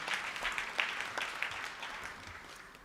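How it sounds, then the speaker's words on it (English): Faint applause from an audience at a national commemoration ceremony in Kenya, a short patter of clapping that fades away over a few seconds. "Let's clap for the women."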